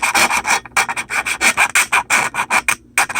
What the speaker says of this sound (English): Just taking the last little bits of the foam off that I couldn't get with my fingernails.